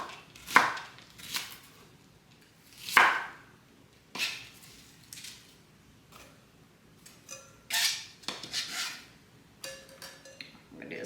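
A knife chops through a whole onion for Texas chili in separate, scattered cuts spaced a second or so apart, quiet and close, with no voices.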